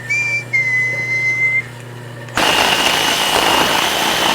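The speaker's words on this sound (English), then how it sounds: "we can cut that excess pipe off" A thin whistling tone gives way to a loud, steady, harsh power-tool roar as excess pipe is cut at a marked line in a metal-fabrication and MIG-welding project.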